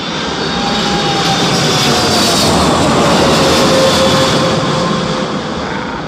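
An airplane descends to land in strong wind, its engines a loud, broad continuous roar that swells and stays dense throughout, heard alone with no talk.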